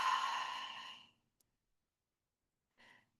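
One long open-mouthed exhale during a Kundalini yoga practice, close and clear, trails off into silence before a faint breath returns at the end.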